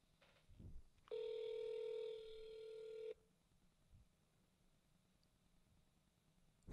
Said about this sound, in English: it's just a ringing phone on the road